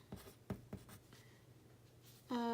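Faint scratchy strokes of someone writing out a math solution, a few quick marks in the first second, then near silence before a brief tonal sound at the end.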